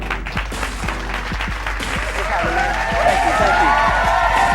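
An audience claps steadily with some cheering and crowd noise for a guest DJ at a show, growing a little louder toward the end.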